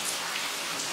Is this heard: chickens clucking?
no